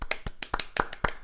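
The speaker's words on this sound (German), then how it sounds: "klatscht im Hintergrund" Hand clapping in the background of an indoor room, several sharp separate claps in an uneven rhythm, fairly close and alone without talk.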